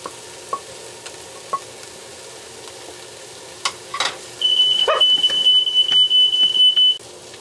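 Beef hits a pan of onions and sizzles loudly for a few seconds after scattered utensil taps and clinks, the frying hiss starting abruptly midway and continuing close up without speech.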